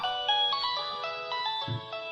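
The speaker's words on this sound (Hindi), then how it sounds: "अरे आपका फोन है।" An electronic phone ringtone plays a bright, repeating melodic pattern of tones, steady and fairly close, with a brief low thump near the end.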